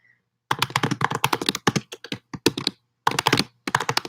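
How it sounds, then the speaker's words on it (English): Rapid clattering keystrokes on a computer keyboard come in quick bursts separated by short pauses, close and clear with no talking. "So I'll type it down for you."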